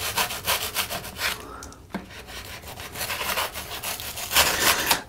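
Cured spray foam on an N scale model railway hillside being trimmed down, a close, steady rasping and scraping with repeated strokes, slightly softer than expected, with no talk.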